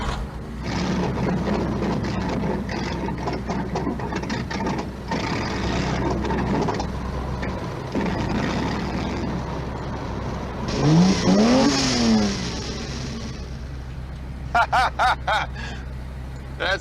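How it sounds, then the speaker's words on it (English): The Ferrari 308 GTS from Magnum PI rumbles through a busy mix and swells into one rising-and-falling rev midway, followed by a few sharp beeping tones near the end. "We've got Magnum PI's Ferrari 308 GTS."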